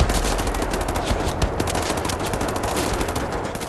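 Sustained rapid gunfire from Wolfenstein: The New Order rattles continuously and loudly throughout, a dense automatic-weapon barrage with no pauses.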